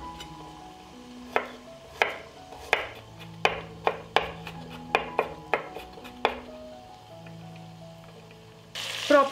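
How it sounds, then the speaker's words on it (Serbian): Garlic cloves are chopped with a knife on a cutting board, about a dozen sharp, separate knocks in an uneven rhythm, close and clear, and a brief rustle follows at the end. "iseckat ću sada 4 češnja belog luka"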